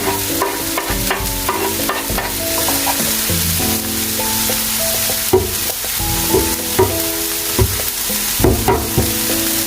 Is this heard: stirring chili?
yes